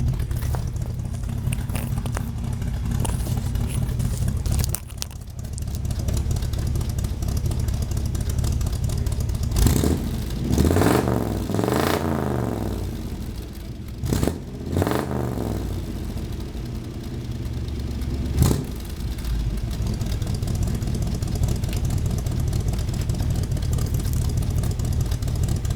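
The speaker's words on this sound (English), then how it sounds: "I'm just going to put the microphone at the back to listen to the exhaust on this thing" A 1963 Buick LeSabre nailhead V8 idles through its exhaust in a steady rumble, broken by a few sharp revs that rise and fall, recorded close at the side of the car.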